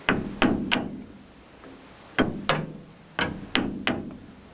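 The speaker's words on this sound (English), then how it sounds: "Don't be tempted to hit the seal with the edge of the hammer." Hammer taps on a seal being driven into a six-stud trailer hub, in pairs of sharp metallic knocks: two pairs, a pause, then several more pairs, close and fairly loud with no talk.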